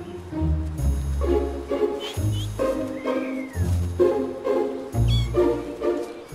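A mother cat, unhappy while tending yellow kittens and active ducklings, lets out a run of repeated, fairly close meows in short bursts with brief pauses between them.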